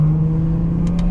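A BMW 440i engine runs steadily in first gear while driving with paddle shifters, a close, even drone with no clear rev rise, ending in two faint brief clicks.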